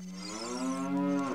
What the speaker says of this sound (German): Eine Kuh...